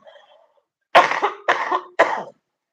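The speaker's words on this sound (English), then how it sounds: "I'm coughing it up, and I am gonna get rid of this chest mess" A woman coughs three times in quick succession, loud and close, each burst harsh and chesty from congestion, after a faint murmur at the start.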